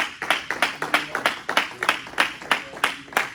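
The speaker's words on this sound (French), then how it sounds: "Est-ce qu'on peut acclamer? Acclame très fort." A church congregation clapping rhythmically and strongly in unison, steady loud beats about three per second, with voices calling out between the claps.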